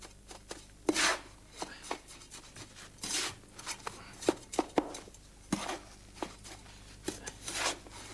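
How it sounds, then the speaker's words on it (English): Sand and cement being mixed by hand in a small batch, giving a series of gritty scraping and rasping strokes at an irregular pace, close and moderately loud. "We get lots of sand and not quite as much cement. Mix them together a bit first."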